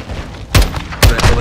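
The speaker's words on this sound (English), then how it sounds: "Incoming! Take cover! They're launching grenades!" Grenades launched and exploding in a realistic night mission of the video game Call of Duty give two close, heavy blasts about half a second apart, each a sharp loud boom with a rumbling tail.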